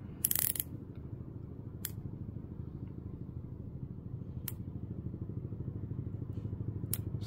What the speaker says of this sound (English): I want you to hear the ratcheting here.